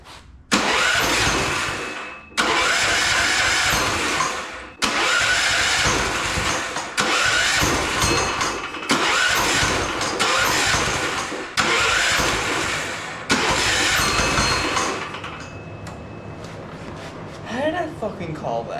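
A turbocharged 420cc go-kart engine cranked over and over, each attempt a loud, close roar of starter and sputtering engine broken by short pauses, then settling into a rougher, quieter idle at the end, with someone talking over it.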